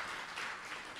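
Audience applause at a lecture on adolescent pregnancy: a brief, faint, steady wash of many hands clapping, heard from a distance with no voices over it.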